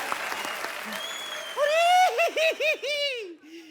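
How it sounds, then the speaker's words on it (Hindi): A studio audience at a comedy talk show claps briefly and loudly, rising quickly and then giving way to a singing or melodic voice that takes over the rest of the moment. "जोरदार तालियां।"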